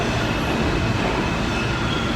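An F subway train in New York rumbles loudly and close through the station, a continuous heavy roar of wheels and cars with no pause, no talk over it.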